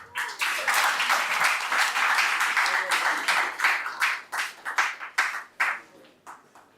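Applause from a conference audience for a speaker at the Duke of Edinburgh's International Award Foundation Africa regional conference, a full burst of clapping that gradually breaks into scattered claps and fades.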